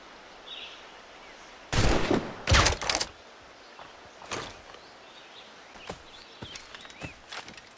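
Several loud, sharp cracks of musket fire burst out close together in an Assassin's Creed Rogue battle, followed by fainter scattered shots and clatter.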